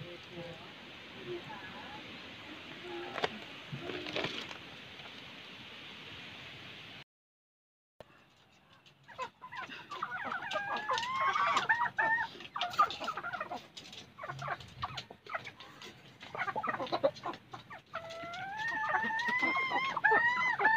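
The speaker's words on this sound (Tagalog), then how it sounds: "Kaya papakain na sa mga manok ko." Backyard chickens cluck and squawk close by, waiting to be fed grated cassava in a rural Philippine yard, with a steady rising chorus after a brief pause and someone talking at times.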